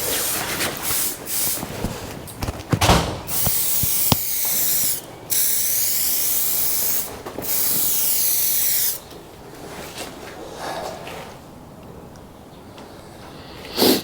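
An aerosol can hisses in several loud, close bursts of spray as coats of paint go onto a £500 auction car, with rattles and pauses between the bursts.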